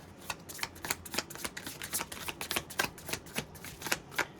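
Tarot cards are shuffled by hand in a rapid string of crisp riffling flicks and slaps, close and clear, with no talking.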